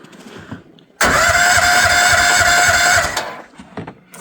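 A mini excavator engine cranks and catches, running steadily and loudly for about two seconds before cutting out. Quiet background sounds can be heard before and after the start.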